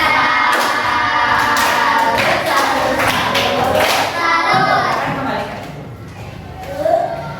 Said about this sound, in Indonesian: Kita kasih tepuk salut untuk kelompok Melati.